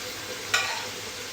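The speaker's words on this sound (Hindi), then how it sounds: "अब मैं इसके अंदर डाल दूँ काले चने उबले हुए।" Boiled black chickpeas go into a hot pan of ghee and cumin, setting off a sudden louder crackling sizzle over the ongoing steady frying hiss, close by with no talking.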